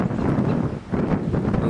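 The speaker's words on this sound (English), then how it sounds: "a nice wind has come up" Gusty wind blows straight into the microphone at Farrens Park in Ingleside. The roar is close and loud, dips briefly midway through and then surges back, with no talking.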